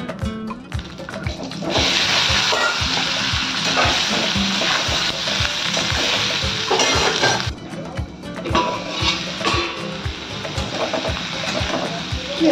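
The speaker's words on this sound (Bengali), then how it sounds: "এই তেলেতেই আমি এঁচড়টাকে ভাজবো।" Jackfruit pieces frying in hot oil left from frying potatoes, giving a loud, continuous crackling sizzle with repeated stirring clacks throughout, easing slightly partway through before building again.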